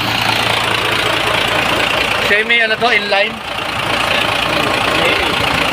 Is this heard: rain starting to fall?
no